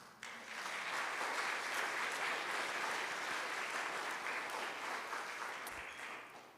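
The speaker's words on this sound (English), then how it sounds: "They all deserve a huge round of applause." A room full of people at a school convocation clapping in steady, sustained applause that fades slightly before stopping after several seconds.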